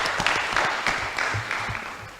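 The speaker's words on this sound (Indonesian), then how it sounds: "Tepuk tangan untuk semua mahasiswa." Brief burst of applause from an audience honouring students at a youth forum on Indonesia's 2024 presidential and legislative elections, with uneven claps rising and falling for about two seconds in a room.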